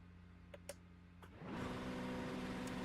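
A GT3 race car in a racing video game, its engine dropping in after a few soft clicks and then holding a steady, fairly loud drone with a rich harmonic buzz.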